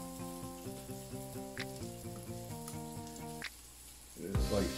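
Flour-coated seasoned beef fries in a pan for a broccoli stir-fry, a faint sizzle beneath steady tonal notes that give way to louder crackling near the end.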